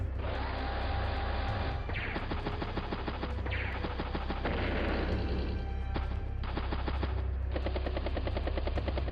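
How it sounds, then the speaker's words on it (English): A battlecopter helicopter in the game Advance Wars: Days of Ruin attacks in a dense, loud stretch of rapid machine-gun bursts over a continuous rotor drone, with booms and crashes between volleys. "Battlecopter over here."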